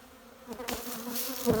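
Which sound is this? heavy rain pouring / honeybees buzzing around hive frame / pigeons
honeybees buzzing around hive frame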